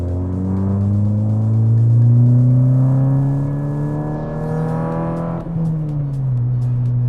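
A Mk6 VW GTI fitted with a CTS Turbo downpipe pulls hard through third gear, engine note climbing steadily in pitch to around 5,000 rpm before a sharp drop at the shift, heard up close from inside the car with no talking.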